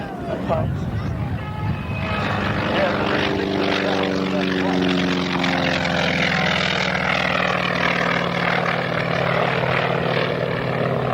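A T-28 propeller aircraft flying at the 1993 South Weymouth air show gives a loud, continuous droning engine roar with shifting pitch, and it grows richer as the plane passes close by.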